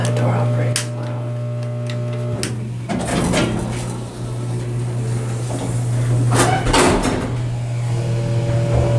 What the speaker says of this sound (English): Man, that door operates loud.